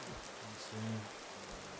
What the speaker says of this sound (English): Not even an umbrella, they just sit out in the rain.